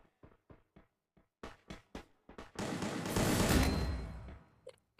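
Gunfire in the Free Fire mobile battle game: several sharp, separate shots at an irregular pace, then a dense sustained burst lasting about two seconds, and a few more closing shots.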